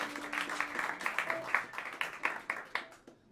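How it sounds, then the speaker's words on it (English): Audience applause at a jazz club during a live trio set at Smalls, a steady crowd of clapping hands close by, rising and falling in dense rapid bursts before tapering off. "Please bring your hands together and give a warm round of applause for the great McClenty Hunter on the drums."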